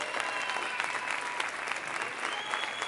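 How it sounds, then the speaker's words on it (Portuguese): A church congregation applauds during a worship conference session, a steady dense roll of many hands clapping that fills the whole stretch at a moderate distance, with no clear voices standing out. "Aplaude e glorifica ao Senhor, meu irmão, onde você está."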